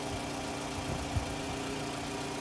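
A 2008 Toyota RAV4 with a 2.4-litre engine idles with the hood open, a steady low mechanical rumble and hum heard up close, with no one talking over it.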